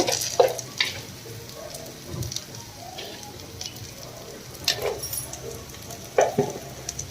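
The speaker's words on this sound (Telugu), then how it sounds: "బాగా ఫ్రై చేయాలి బాగా కలుపుకోవాలండి" Ivy gourd (dondakaya) frying in a pan with cumin powder, chilli and salt, a steady sizzle broken by scraping stirs and spoon taps close by, with no one speaking.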